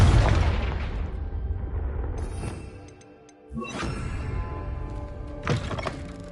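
A heavy fiery blast from the Confringo spell in Hogwarts Legacy opens with a deep rumbling boom that fades, followed by further crackling impacts and rumbles echoing through a cobwebbed space.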